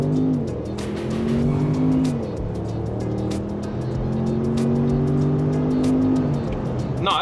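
A 2024 Range Rover P530 launches and accelerates, its engine note climbing through gear changes with a continuous tonal drone and a faint tire noise, heard from inside the car.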